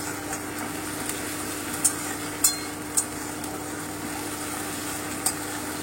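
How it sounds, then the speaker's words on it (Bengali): Onion paste frying lightly in a pan for fish kalia, a soft continuous sizzle with a few sharp clinks of a utensil against the pan scattered through. "পেঁয়াজ বাটাটা দিয়ে দিলাম। হালকা একটু ভেজে নিচ্ছি।"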